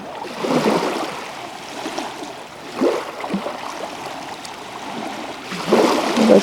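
Gentle little waves wash up onto a sandy beach in a series of soft, rustling surges a second or two apart. The water sounds near and moderately quiet, with no one talking.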